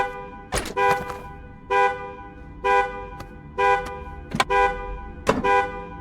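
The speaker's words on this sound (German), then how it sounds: "Wenn ich die Batterie abklemme, und dann hört es natürlich auf zu hupen." A car horn honks repeatedly in the video game Fear the Spotlight, in loud, evenly spaced blasts against a low background rumble, with clicks between the honks.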